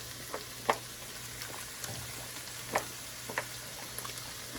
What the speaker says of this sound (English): So I'll grab this real quick and give this shit a stir.